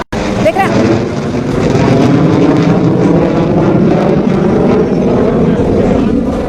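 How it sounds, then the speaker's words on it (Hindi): A Sukhoi fighter jet roars overhead during a military flight display, a loud continuous rumbling roar that holds steady for several seconds after a brief quiet start. "देखिए सुखोई का शौर्य यहां आप देख लीजिए, सुखोई भी गरजता दिखाई दिया"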